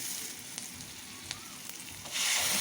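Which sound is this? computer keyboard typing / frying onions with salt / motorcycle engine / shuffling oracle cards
frying onions with salt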